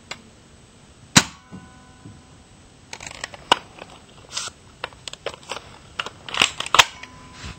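Nerf N-Strike hand guns firing foam darts, a sharp snap near the start followed by scattered clicks and light mechanical pops spread across the moment, fairly faint and close.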